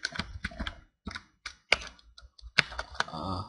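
Someone types on a computer keyboard while working in Unreal Engine 4, producing close, crisp key clicks in irregular short bursts with brief pauses between them.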